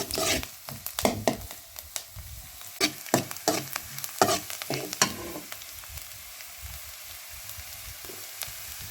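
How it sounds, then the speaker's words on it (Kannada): Ingredients for tomato gojju fry in a pan under a soft steady sizzle, broken by repeated scraping and clattering strokes of a spoon stirring, with the stirring fading toward the end. "ಹೀಗೇ 1 ನಿಮಿಷ ಹುರಿಬೇಕು."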